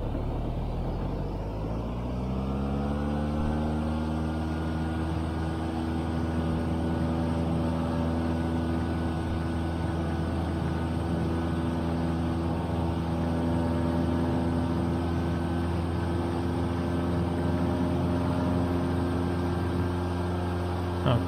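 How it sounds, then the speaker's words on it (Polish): A simulated airplane takes off in the FlightGear 2020 flight simulator, its engine spooling up with a rising whine and then settling into a steady, even drone. "Okej, samolot w sumie sam wystartował."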